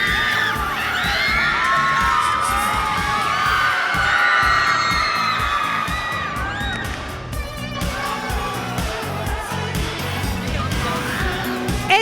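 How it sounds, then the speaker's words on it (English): A convention crowd at the CCXP25 panel for Lana Parrilla roars with sustained cheering, whoops and applause. It is loud and dense throughout, with shouting voices layered over the din. "Give her a big applause."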